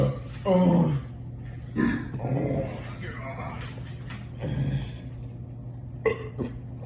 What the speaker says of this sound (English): I'm gonna fucking burp everywhere.